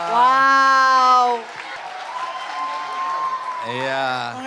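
A studio audience at an Indonesian talk show applauds in a steady burst of clapping under a host's amplified voice, which talks over the applause.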